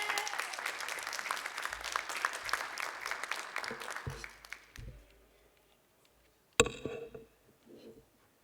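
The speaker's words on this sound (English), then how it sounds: "Let's give them a round of applause." An audience at an accessibility paper session of an academic conference applauds for several seconds, a faint, dense patter that fades out, followed by a few isolated knocks and handling sounds.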